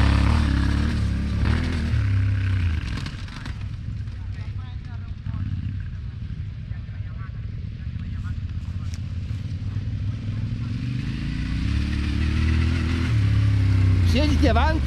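A Ténéré 700 motorcycle on a practice track, its engine droning and rising as it accelerates, with a rider coach's voice calling out over it and a stronger rev near the end.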